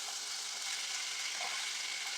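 Chicken pieces for orange chicken pan-fry with a faint, even sizzle, a steady hiss that carries on unbroken with no other sounds.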